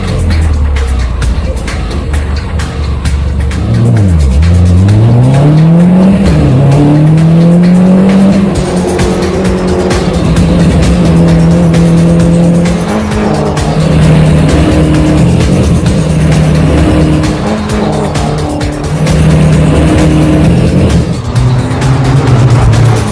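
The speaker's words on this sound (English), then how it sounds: "After 15 laps of the track, Gavin is heading the pack, when suddenly he spins out of control and drops back in the field." A race car spins out during a track race: engine whine swoops up and down with tire squeal, loud and continuous over some twenty seconds.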